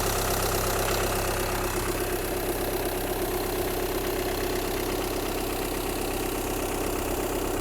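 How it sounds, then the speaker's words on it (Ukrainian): A Skoda Octavia A7 engine idles smoothly and steadily, a loud, even, close-up drone with no talking over it. "Все дуже чисто, чистенько працює, рівно ходить."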